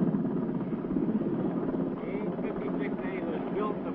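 An AH-56 Cheyenne attack helicopter turns tightly on the ground, its rotor and turbine making a steady, loud, close drone with a rough, wind-buffeted texture throughout.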